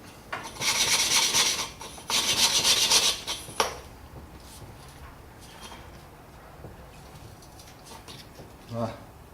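Engine valves being lapped in by hand against their seats with grinding compound, giving two loud, sustained rasping rubbing bursts up close, then quieter faint scraping and a brief knock near the end.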